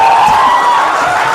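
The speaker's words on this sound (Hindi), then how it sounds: "तालियां" A loud, dense wash of audience applause and cheering fills a hall at an alumni meet, a continuous roar with no individual claps standing out.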